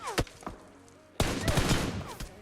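Gunfire in the battle royale game PUBG Mobile: a few sharp isolated shots, then a loud sudden volley of rapid shots that keeps rattling to the end, close and forceful.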